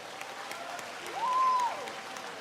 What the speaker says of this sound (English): I would like to invite every one of you to join me in a final round of applause for all the excellent